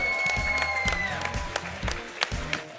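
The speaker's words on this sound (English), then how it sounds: "So everybody give me a round of applause for the Beach Episode team!" Scattered clapping from a crowd rises and continues steadily, mixed with a sustained tone and faint voices.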